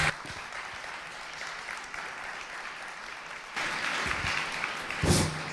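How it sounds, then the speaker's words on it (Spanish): Steady audience applause, a dense wash of clapping from a crowd that swells louder partway through. "Un aplauso fuerte, por favor."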